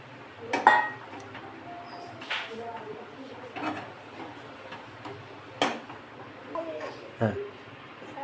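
Alambi mushrooms stirred into masala in a pan, heard as scattered clinks and scrapes of a spoon against metal at irregular intervals over a faint background.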